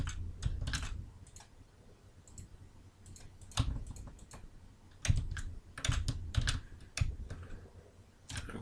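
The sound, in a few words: computer keyboard key press and mouse clicking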